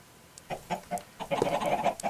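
Chickens clucking in the Minecraft video game, a quick run of short clucks that grow busier and louder toward the end, with no voices over them.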